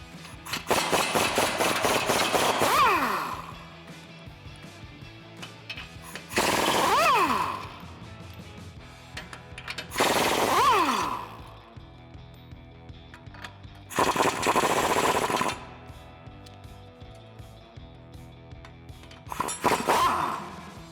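Impact wrench bursts loosening U-bolts with a 21mm socket on a 2009-2013 Ford F150 during a suspension lift install, five loud ratcheting rattles of a few seconds each, separated by quieter shop background.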